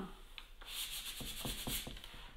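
Rubbing and sanding on a piece of furniture being refinished, a steady scratchy hiss with repeated short strokes, close to the microphone and with no talking.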